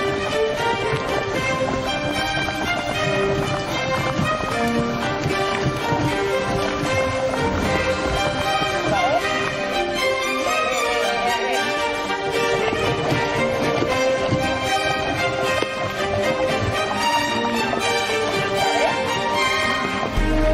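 Horse hooves clip-clopping in a steady working rhythm as a rejoneadora schools her young horses in training, heard under a dense, continuous wash of music that stays loud throughout.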